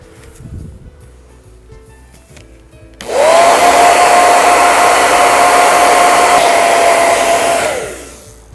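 A hair dryer switches on after three seconds of near quiet to dry wood filler on a mosaic piece. It blows a loud, steady roar with a whining tone, then cuts off near the end.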